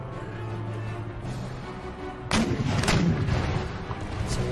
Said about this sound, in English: let's target their camels with my canister shot